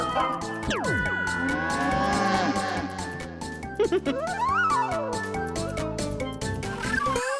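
A buffalo in an animated episode gives long, drawn-out moos that rise and fall, heard close over a busy background of other sound.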